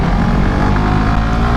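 A 2017 Suzuki GSX-R 150 motorcycle engine pulls steadily in second gear while riding, a loud, even, continuous drone with no talk over it.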